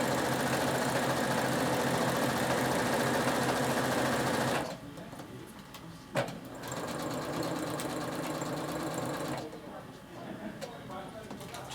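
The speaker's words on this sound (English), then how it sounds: "Just sewing around exactly as what we want the bit of fabric to look like." A sewing machine runs in straight stitch around a fabric design, a loud steady mechanical whir that stops midway, then resumes more quietly with brief pauses, a person talking over it.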